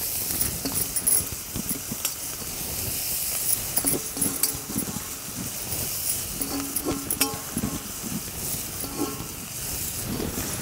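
Chopped coriander is tossed into a pan of frying masala for a village-style coriander bhaji, with a steady sizzle under scraping and clinking stirs of a utensil against the pan.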